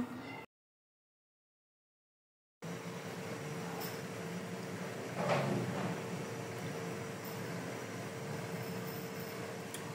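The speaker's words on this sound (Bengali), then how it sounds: "গোলাপগুলো এখন তেলে ভেজে নিচ্ছি" Rose-shaped nimki pastries sizzle steadily in moderately hot oil, a soft continuous frying hiss with a brief louder burst midway, following a short silent gap near the start.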